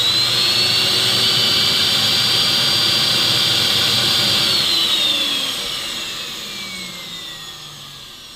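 A central vacuum system motor, on a unit being repaired for a bad relay and bad wiring, roars with a loud steady high whine, then spins down with its pitch sliding lower and the noise fading; no one speaks.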